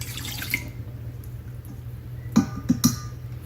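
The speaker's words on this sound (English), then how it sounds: "And then pour the milk in." Milk poured from a container into a bowl holding a cracked egg, a short faint trickle with a few distinct splashy drips near the end.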